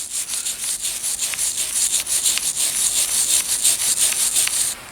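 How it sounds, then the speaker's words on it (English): A brush scrubs carbon buildup off the cylinder of a Smith & Wesson Model 17-3 revolver, close and steady, with quick repeated back-and-forth rasping strokes for several seconds before stopping abruptly. No talk. "I take a brush and I just kind of scrape off the carbon buildup on the outside of the cylinder on both sides."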